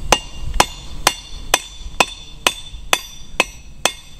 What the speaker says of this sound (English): hammer the head.